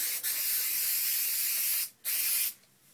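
Aerosol spray glue hisses onto ribbon in long continuous bursts with a brief pause between sprays, close and loud.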